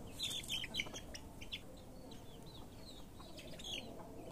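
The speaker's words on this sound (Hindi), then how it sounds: "अभी पहचान में आता है कि ये मुर्गा है" Young rooster about 30 days old, clucking and chirping in repeated short calls over a steady background din, fairly faint throughout with a few brighter chirps near the start and end.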